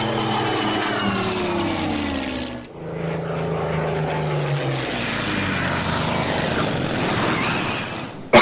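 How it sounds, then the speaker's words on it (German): Propeller warplanes fly in during an Order of Battle strategy game, their engines droning steadily with a brief dip, then a broad, building roar as they come closer. "Da kommen meine Flugzeuge."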